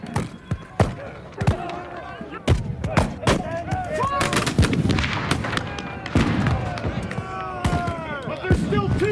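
Rifle musket volleys at a British militaria reenactment shoot in Alberta: several sharp, loud reports ring out in ragged clusters with echoing tails, while voices shout and talk between the shots.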